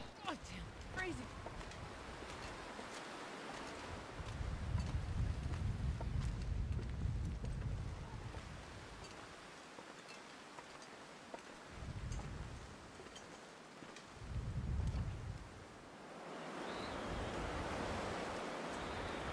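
Wind gusts roar and howl across a snowy landscape in the survival video game The Long Dark, swelling and fading in waves while a player talks.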